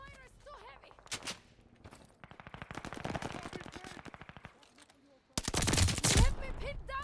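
Rapid automatic gunfire in the video game Call of Duty: Vanguard, with sustained machine-gun bursts and a loud close volley near the end, while game voices speak in between.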